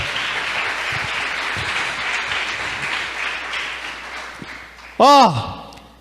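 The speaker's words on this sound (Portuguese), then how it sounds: "Vamos aplaudir pelos fortes na fé" A church congregation applauds during a Portuguese-language sermon, a broad steady wash of clapping that fades toward the end before a sharp loud burst cuts in near the close.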